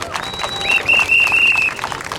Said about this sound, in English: So just have a round of applause, because that's really where it deserves.